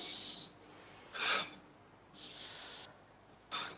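Breathy exhalations during a back exercise, four separate airy puffs close to the microphone, some longer and some short and sharp, with quiet between them.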